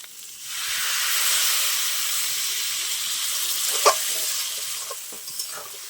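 Water poured into a hot pan of spiced fried soybean chunks and potato sets off a loud, steady sizzle and hiss that fades slightly, with a few soft clinks of a utensil stirring near the end.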